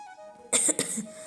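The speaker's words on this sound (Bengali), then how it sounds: "হাঁচি কাশি আর বন্ধ নেই" A single person gives a short, sharp cough, a quick double burst close by in a quiet indoor room.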